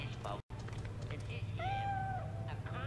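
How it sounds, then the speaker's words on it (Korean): A cat gives one drawn-out, wavering meow, heard fairly close over a steady low hum, with people talking around it. "고양이 소리가."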